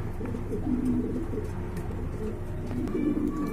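Pigeons coo steadily in a low, throaty murmur, several birds overlapping in a continuous close-up chorus.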